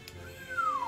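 A house cat lets out a single drawn-out meow, clear and fairly close, over a faint hum of game music in a room where people are streaming Slay the Spire.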